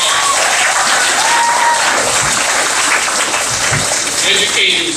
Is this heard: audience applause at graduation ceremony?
yes